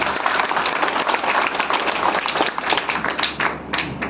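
Seminar audience applauding together, a dense sustained wash of clapping from many hands filling the room for about four seconds, steady and loud with no pauses.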